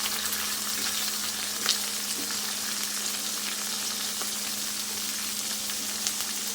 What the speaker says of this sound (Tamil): வெங்காயம் நல்லா வதங்கினதுக்கப்புறம் தேவையான அளவு தக்காளி போட்டு நல்லா வதக்கணும்.